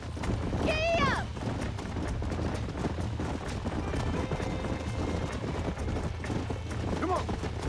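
Horse hooves clip-clopping at a gallop in the Red Dead Redemption video game, a steady rhythmic beat under game noise, with a brief whinny near the start and again near the end.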